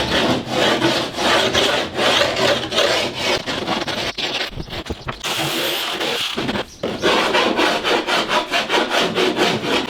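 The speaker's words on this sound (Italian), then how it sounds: "Ok, il taglio è stato completato" Wood is being sawn for a ramp, with rapid, even back-and-forth strokes that pause briefly midway and then resume at the same steady rhythm.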